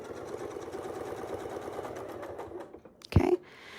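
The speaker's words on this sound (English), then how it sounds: "And then we'll just sew right back in, lining everybody up just like we did before." A sewing machine quilts with a Westalee Sashlee template, a steady close mechanical whir running for about three seconds before stopping, followed by a brief louder thump.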